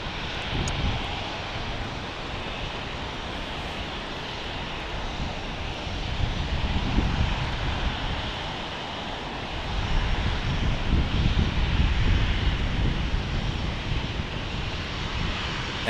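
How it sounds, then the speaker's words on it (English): A Southwest Airlines airliner pushes back at Fort Lauderdale International Airport, its engines giving a steady broadband roar heard from a distance, swelling slightly louder twice with faint wind rumble and no talk. "Get another Southwest Airlines pushback."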